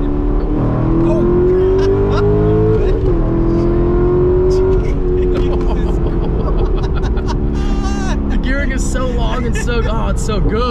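A naturally aspirated sports car accelerates hard through the gears, its loud engine note climbing steadily, dropping at a shift and climbing again. Excited voices shout and talk over the engine near the end.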